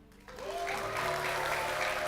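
A church congregation breaks into applause after a short quiet moment, then sustains a dense, even wash of clapping that fills the room.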